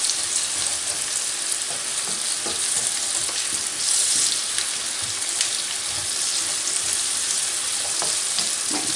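Carrot hits hot oil for a mackerel escabeche, giving a loud, steady sizzle and frying hiss with faint stirring clatter and no voices.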